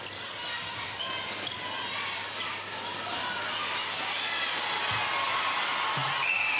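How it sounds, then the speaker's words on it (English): Netball crowd at a 2010 ANZ Championship semi-final between the Magic and the Steel, a loud, steady wash of cheering and roaring voices filling the arena without letup, with faint commentary underneath. "the crowd baying for Hellborn"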